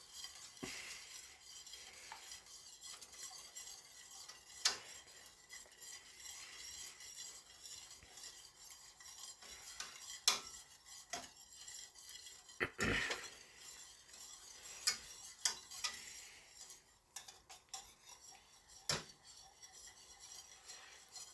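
Flour being stirred in a pot for smothered turkey wings, a spoon scraping and clinking against the pot over a low steady sizzle, close but quiet, with occasional sharper knocks.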